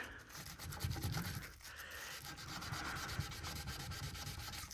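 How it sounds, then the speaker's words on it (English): Sandpaper rubbing over painted furniture that was never cleaned first, a steady scratchy friction in repeated back-and-forth strokes, close and continuous with no talking. "if you were to just not clean and just go ahead and sand"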